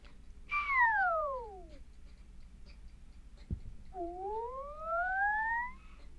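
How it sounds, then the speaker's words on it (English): A whistle blended with a copy pitch-shifted an octave lower, so each note sounds doubled. A long descending glide comes first, then a brief click, then a long ascending glide, heard alone with no voices. "So we have a mix of kind of the original whistle and then its pitched down version an octave lower"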